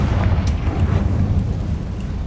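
Confringo blasting curse in Hogwarts Legacy: a loud, close, rumbling fiery explosion that roars continuously for a couple of seconds with a few crackling pops on top.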